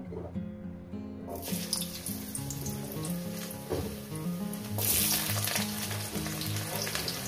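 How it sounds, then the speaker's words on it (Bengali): Potatoes frying in a small amount of hot oil for a chicken skin curry, a steady bright sizzle running throughout under a continuous layer of tonal background music. "তেলটা আমার গরম হয়ে গেছে, এরপর দিয়ে দেবো আমি আলুগুলো"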